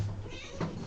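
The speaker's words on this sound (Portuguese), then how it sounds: "vocês estão ouvindo esse pequeno miado" A small house cat meows once, short and fairly close, at feeding time indoors after food is opened.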